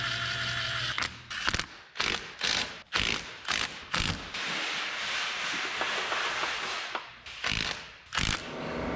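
A ratchet wrench tightens bolts on the engine of a 1934 Chevrolet farm truck, with repeated bursts of clicking strokes separated by short pauses, close and clear with no talking.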